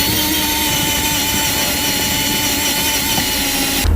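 A power drill enlarges a hole in the firewall of a 2014 Ford F-series truck, giving a loud continuous whine and grinding that holds steady throughout.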